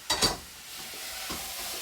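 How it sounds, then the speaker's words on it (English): Leeks sizzle in melting butter in a pan as they are stirred: two sharp scraping stirs at the start, then a steady close frying hiss with a further scrape. "I can hear the leeks sizzling"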